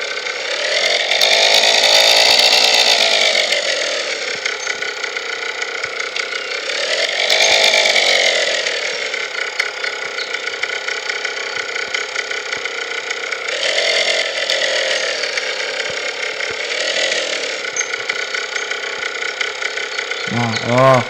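A large vehicle engine in a pickup truck video game drones steadily, swelling and easing as the throttle rises and falls in several slow surges, loud and continuous, with a voice briefly heard over it.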